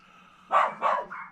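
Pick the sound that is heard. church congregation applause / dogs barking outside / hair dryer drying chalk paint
dogs barking outside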